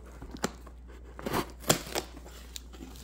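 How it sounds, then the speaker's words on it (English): Scissors snipping down the side of plastic coin packaging holding 2023 Edith Kanaka'ole quarters: several quiet, sharp cuts and crinkles spaced irregularly, close to the microphone with no talk. "I'm just going to cut it down the side here."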